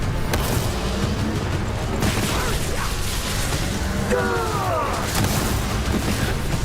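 Scattered booms and mechanical gunfire from the Borderlands shooter game, with explosions going off at moderate distance against a busy game mix.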